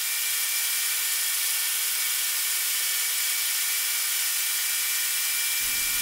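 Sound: grinding rock crusher roller mill wheels smooth

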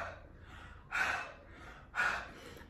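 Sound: breathing into honey three times

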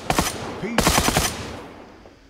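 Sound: gunfire in a video game

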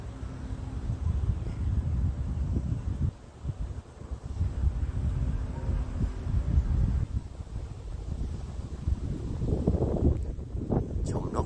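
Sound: strong wind blowing by a pond

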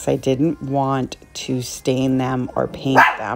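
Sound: dog barking

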